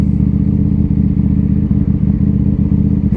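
A KTM Duke 890R motorcycle engine runs loud and steady at close range, a continuous deep throbbing rumble with a faint rattling clatter and no talking.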